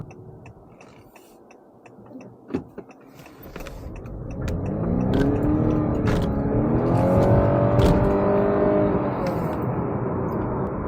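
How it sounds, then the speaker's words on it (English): 2020 Honda Accord VTi hybrid pulling away from a standstill, its petrol engine and electric motor building from a low hum into a rising, sustained drone that holds steady and loud for several seconds after a few brief knocks. "So how does the Honda Accord accelerate from a standing start?"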